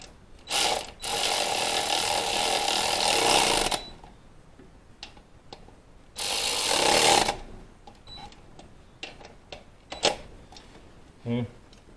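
A 10 mm ratchet tightens engine top-end bolts to 89 inch-pounds in two long bursts of rapid clicking, followed by scattered single clicks, with a voice heard briefly between them.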